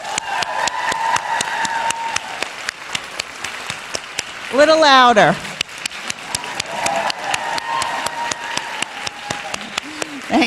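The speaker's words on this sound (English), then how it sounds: "I'd like to call upon our graduates to give an enthusiastic round of applause to their families," Graduates at an interior design school commencement give sustained applause to their families, friends and faculty, a steady patter of many hands with a voice briefly speaking over it midway.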